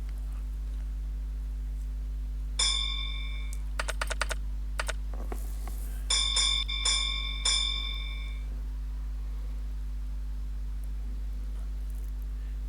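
Electric railway signalling bells from the Blockpost Ford train simulator ring in short clusters of sharp, clear strikes, some single and some rapid runs, over a low steady hum with long quiet gaps between.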